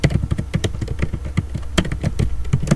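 Rapid, uneven clicking of keys on a computer keyboard while writing Go code, close and clear, a continuous patter of individual keystrokes with no talk.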